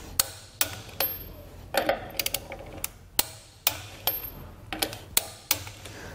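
A wrench torques down lug nuts on a trailer wheel fitted to a Dexter axle beam with E-Z Lube spindles, making sharp metallic clicks and taps at an uneven pace, close and fairly loud, with no speech.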